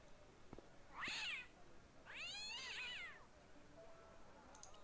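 A cat in the video game Broken Sword meows twice when petted, two clear drawn-out meows spaced about a second apart, close and alone over a quiet background.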